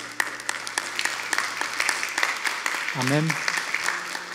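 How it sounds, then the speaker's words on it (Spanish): A church congregation claps steadily during a pastor's sermon, the applause spreading across the whole stretch. A voice speaks briefly over it partway through. "Dale un aplauso al Señor."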